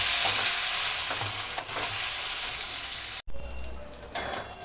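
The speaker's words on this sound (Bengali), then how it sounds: "পেঁয়াজটা লাল লাল করে ভেজে নেব।" Three small chopped onions fry in oil for a rohu fish-head curry with winter baby potatoes, a loud steady close sizzle with occasional stirring scrapes and a brief break near the end.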